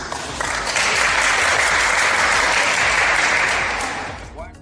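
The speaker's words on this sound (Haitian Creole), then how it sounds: "Il faut que nous battions l'applaudissement pour l'excellence là" A crowd at a preacher's gathering bursts into sustained applause, a dense wash of clapping that holds steady for several seconds before fading out, with a voice talking underneath.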